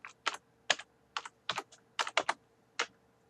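Quick bursts of typing on a computer keyboard, several clicky keystrokes in short uneven clusters, close and fairly quiet.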